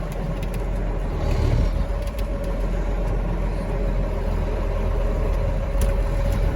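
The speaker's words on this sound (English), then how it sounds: "This is my first time running a loader in a Magnum" A Magnum tractor with a front loader runs with a steady, low engine drone that stays close and even, with faint clanks now and then and no talking.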